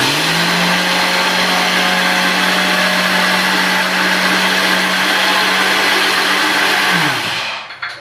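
Mixer grinder grinding black kavuni rice: a loud, steady motor whine with a constant low hum runs for about seven seconds, then winds down abruptly as the grinder is switched off.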